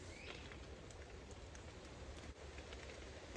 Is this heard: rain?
yes